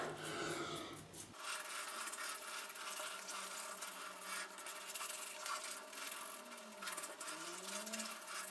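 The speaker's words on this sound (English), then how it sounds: "just making sure that's rubbed in nicely to the beard" Proraso White pre-shave being rubbed into a beard by hand, a steady close scratchy rubbing texture that runs continuously after a brief pause.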